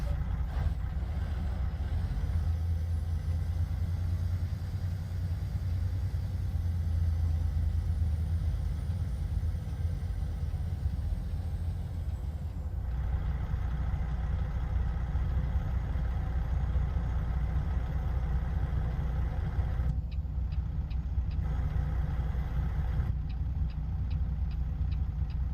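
Truck engine idling in American Truck Simulator, a steady low rumble with faint ticking, fairly quiet and continuous with no talk.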